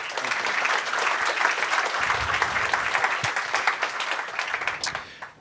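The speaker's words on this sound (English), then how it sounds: "Let's give him an applause." A conference audience applauds after a business talk by a Finnair speaker, a full, steady burst of clapping from many hands that fades out at the end.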